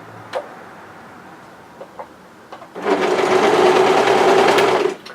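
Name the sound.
overlocker sewing machine overlocking cardigan fabric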